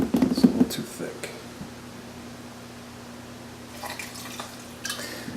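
A short splash of water poured into a thick green mango smoothie, heard briefly at the start, followed by quiet background hiss and a faint later rustle.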